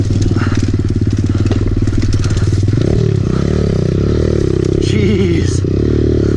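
An enduro dirt bike engine being ridden on a track, a loud close buzzing motor that holds steady, then drops and climbs again as the throttle changes, with a voice briefly over it.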